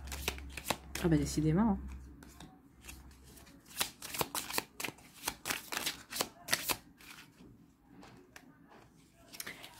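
A deck of Lenormand oracle cards from the Rêves Enchantés de Lenormand set is shuffled by hand, producing a steady run of crisp card slaps and flicks close by, with a few brief spoken remarks early on.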